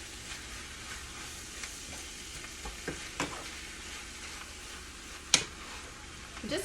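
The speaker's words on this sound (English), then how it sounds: "I'm just trying to bring up the onions so when we scoop this out, it's not just like meat on the top." Onions and cheesesteak meat sizzle on a hot cooking surface while being stirred and scooped, a soft continuous fry broken by scraping strokes and one sharp clack near the end.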